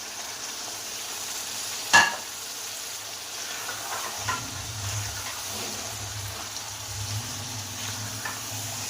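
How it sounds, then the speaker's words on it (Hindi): Chicken added to fried masala sizzles in a pan, a quiet, steady frying hiss with a sharp knock near the start and a low rumble building partway through, with no talk. "इधर मसाला हमारा भून चुका है। तो इसमें हम चिकन डाल देंगे।"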